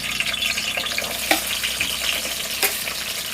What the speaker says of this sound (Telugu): నూనె అయితే వేడైపోయింది ఫ్రెండ్స్ ఫస్ట్ అయితే ఉల్లిపాయలు అయితే వేసేసుకుంటున్నాను దీంట్లో